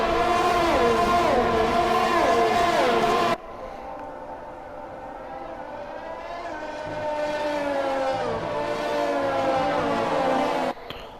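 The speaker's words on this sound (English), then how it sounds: "Listen to them engines." Formula 1 race car engines roar in the F1 20 video game at the Hungarian Grand Prix in wet weather, with a loud, continuous, high-revving whine that steps down in pitch partway through and keeps going.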